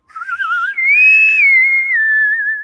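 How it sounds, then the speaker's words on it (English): A single person whistles a clear sliding tune, rising then holding a long wavering note, close and alone with no talking. "Whistling."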